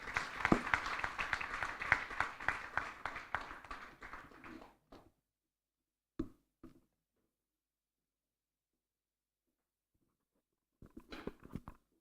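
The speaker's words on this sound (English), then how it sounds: "Can we give her a more youthful hand clap?" Hands clap in a dense burst from an audience at a youth agriculture conference, fairly close, then fade out around five seconds, leaving silence broken by a few scattered claps and a short final patter.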